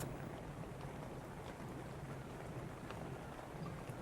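Steady rain hiss with low rumbling thunder in a video game, a continuous even wash of sound with no talking over it.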